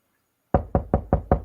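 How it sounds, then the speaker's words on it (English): Insistent knocking at a door as a radio drama sound effect: five firm, evenly spaced knocks after a brief silence, close and loud. "There's a more insistent knock at the door."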